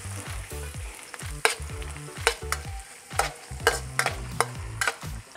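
Chopped white onion stir-frying in a pan for shrimp pad Thai, a steady sizzle broken by repeated sharp scrapes and clanks of a utensil stirring against the pan, with no one speaking.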